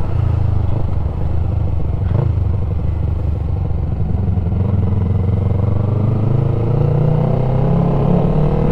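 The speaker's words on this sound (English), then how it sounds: "Cruising along, hear that kind of peak, go to the next gear." A Yamaha MT-03 motorcycle engine heard close up while riding, with a steady loud drone whose pitch climbs as the revs rise, peaks, drops at each gear change, then climbs again.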